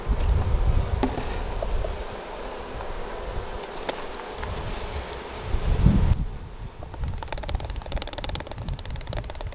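Honeybees buzzing around an open hive during a powdered sugar varroa mite check, a low steady drone close by with rustling and occasional handling noises.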